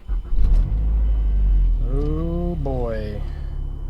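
A 2012 Mazdaspeed 3 fitted with a new transmission mount pulls away under a low engine rumble. The engine note climbs briefly as it accelerates, with a short spoken exclamation near the start.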